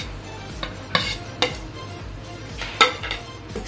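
Vegetable biryani with soybeans stirred in a pot, a few sharp scrapes and clinks of the spoon against metal standing out over a low, steady background, with no voices.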